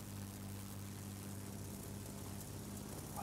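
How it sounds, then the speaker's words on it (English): Propeller aircraft engine in a Wargaming flight video game, a steady droning hum with a low harmonic rumble that holds evenly at moderate level throughout, no voices. "I love the sound of the engine."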